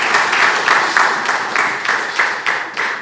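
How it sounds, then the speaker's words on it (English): Applause from an audience at an awards ceremony honouring remarkable teens, a steady wash of many hands clapping with gentle surges, moderately loud and continuous with no talk over it. "you could clap."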